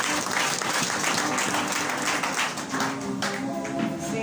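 A church congregation at a Sunday morning worship service breaks into sustained applause, dense crowd clapping holding steady for several seconds with a voice faintly audible beneath it.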